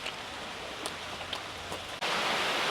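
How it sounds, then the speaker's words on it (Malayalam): Heavy rain pours down as a dense, steady hiss, fairly close, with a few sharper drop patters and a slight rise in loudness near the end. "അപ്പോൾ നല്ല മഴയാണ്"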